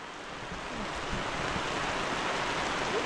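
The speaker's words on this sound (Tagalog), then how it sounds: "Ulan." Rain falls over a bitter gourd plot, a broad steady wash of hiss that swells slightly and holds, with no speech over it.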